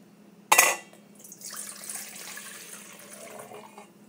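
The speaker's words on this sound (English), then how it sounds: "Now we are going to dump our yeast and water mixture into our big bowl." A yeast and water mixture is dumped into a big bowl for pretzel dough, a sharp clink of the container followed by a short splash and trickling liquid, close and quiet.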